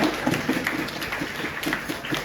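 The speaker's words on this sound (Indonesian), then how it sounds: "Tepuk tangan lagi buat kalian" A school audience at a religious speech gathering gives a short round of clapping, with scattered distinct hand claps over a steady hall murmur.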